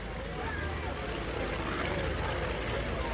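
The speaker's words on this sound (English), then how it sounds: "It sure sounds like the pistons are switching holes in those engines," A steady, dense roar of a North American B-25 Mitchell bomber's radial piston engines at an airshow, droning continuously, loud and rough, with what sounds like speech buried beneath the noise.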